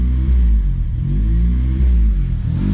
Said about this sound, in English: It's still obviously making the sound. The revs are still bouncing up and down